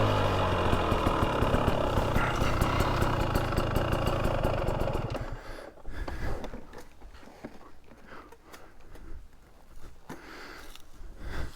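A 2023 Husqvarna TX300 Heritage Edition dirt bike engine idles with a steady, close burble for about five seconds, then falls to a quieter, uneven ticking clatter.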